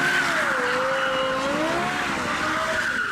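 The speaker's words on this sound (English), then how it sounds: "what is the most beautiful exhaust note ever produced for a street-legal car?" Lexus LFA engine and exhaust note, a high, smooth wail rising and falling in pitch as the revs swing up and down, loud and close, continuous for three seconds with no talking.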